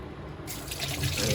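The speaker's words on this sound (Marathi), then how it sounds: "व्यवस्थित धुवून घ्यायचं." Crabs being rinsed under a running kitchen tap while a crab curry is prepared: a steady close splash of water into a sink, growing fuller and louder partway through, with no talk.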